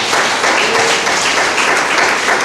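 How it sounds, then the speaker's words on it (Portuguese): A church congregation claps in praise of the Lord, a brief, dense and even burst of applause with no voices over it. "As palmas louvem o Senhor."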